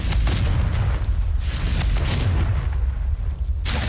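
A Confringo fire spell going off in Hogwarts Legacy, heard as a loud, sustained booming blast with a rumbling low end and a fresh burst near the end.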